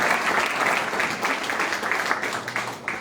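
A crowd audience at a Veneto regional election presentation applauds loudly and steadily for about three seconds, with dense continuous clapping that tails off slightly at the end.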